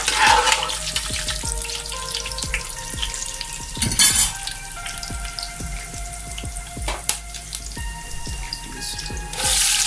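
Onions frying in a pan for chicken biryani, a close, steady sizzle and crackle with frequent sharp pops and spatters, plus a few louder bursts of hissing, with no one speaking.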